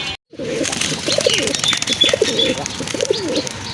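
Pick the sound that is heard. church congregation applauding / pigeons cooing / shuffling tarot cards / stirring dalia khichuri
pigeons cooing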